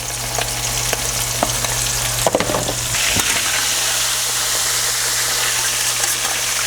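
Salt and pepper shrimp frying in a batch of hot oil give a steady, loud, close sizzle that runs throughout, with a brief clatter of utensils near the middle and no talking.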